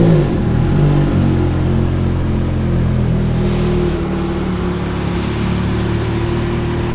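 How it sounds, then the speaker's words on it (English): A Ferrari F430 engine revs steadily and loudly with the brake held, a continuous low rumbling drone that surges slightly and then settles for several seconds, close up with no talking. "So I had to put my foot on the brake and give it gas"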